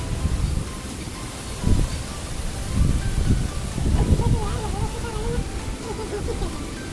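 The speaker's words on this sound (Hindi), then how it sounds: "बहुत तेज़ हवा चल रही है" A strong, cold winter wind gusts outdoors, producing a broad rushing roar with buffeting low rumbles against the microphone, rising and falling over several seconds, with faint background sounds underneath.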